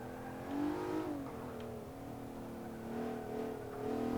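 A Mitsubishi GTO engine droning steadily up close while driving the Nurburgring in Forza 5, its revs swelling and easing in smooth waves, no voices over it.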